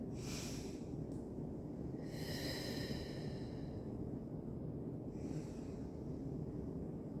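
Deep breathing during seated chair yoga: three long, airy breaths in and out, soft and close, spaced over several seconds above a steady low background hum.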